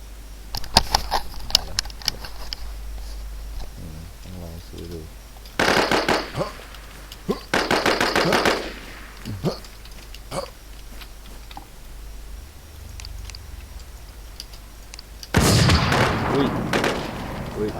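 Gunfire in the survival shooter WarZ: bursts of rapid shots and single cracks come in clusters, with a long loud burst near the end and quieter gaps between volleys.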